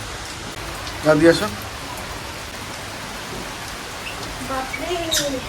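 Steady rain pours down close by, a constant hiss throughout, while a person speaks briefly and another voice is heard near the end.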